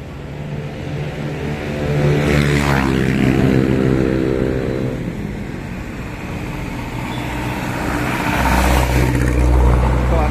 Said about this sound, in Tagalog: Traffic update dito sa location ng Quezon City, particular dito sa Quirino.